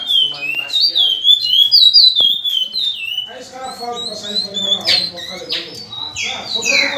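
Several caged songbirds, including a curió and a bicudo, sing loudly and close by in a bird breeder's collection, with overlapping bright whistled phrases and trills running continuously, while someone talks over them.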